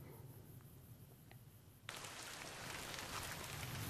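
Soft, steady rain hiss in the video game Fallout: New Vegas that suddenly swells into a heavier, louder downpour partway through and keeps going.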